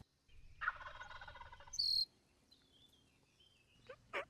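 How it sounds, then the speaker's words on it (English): A loud wild turkey gobble rings out nearby, a burst of rapid rattling calls, followed by a short sharp chirp and faint scattered calls against low rustling. "I heard a gobble, and it was very loud and very close."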